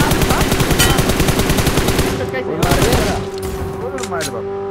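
Rapid bursts of automatic gunfire in a competitive first-person shooter scrim, dense and loud, with sustained volleys fading into scattered shots and echoes; a voice talks over the firing.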